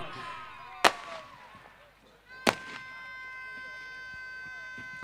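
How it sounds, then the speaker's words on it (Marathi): Fireworks go off at the Dnyanjyot cricket festival mega final: two sharp, loud bangs about one and a half seconds apart, separated by quieter stretches with a steady tone and faint voices. "फटाक्यांची आतषबाजी होते ज्ञानज्योत क्रिकेट महोत्सवाच्या माध्यमातून"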